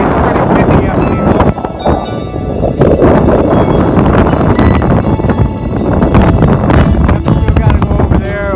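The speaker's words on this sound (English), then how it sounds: "I hope you can hear me, it's pretty windy up here." Strong wind roars across a mountain ridge on the Appalachian Trail, loud and continuous with gusty crackling buffets against the microphone, while someone speaks underneath.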